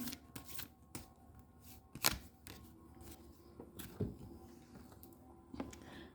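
Tarot cards are shuffled and drawn by hand in a quiet room, with soft papery riffles and slaps and a few sharper flicks scattered irregularly across the stretch.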